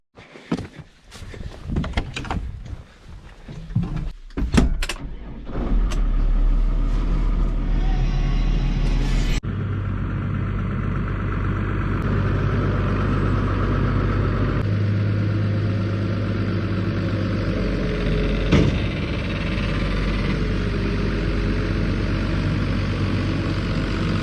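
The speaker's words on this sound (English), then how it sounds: "I'm gonna hop in the tractor and bale processor" Clanks and a door thud, then a heavy diesel tractor with a bale processor starts and idles steadily, a low constant rumble close by for a long stretch.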